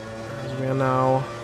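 A 1991 Formula One race car engine at the British Grand Prix in Automobilista 2 holds a steady harmonic drone that climbs in pitch as the revs build, then cuts off sharply after about a second.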